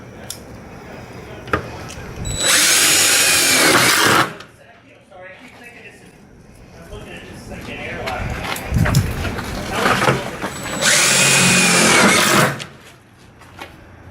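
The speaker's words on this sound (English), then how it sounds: "Here's a number 12 1-inch self-drilling screws." A power drill driving #12 one-inch self-drilling screws into a school bus during a stop-arm install, two loud sustained whirring bursts a few seconds each, separated by quieter handling noise and a person talking.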